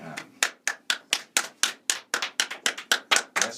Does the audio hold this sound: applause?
yes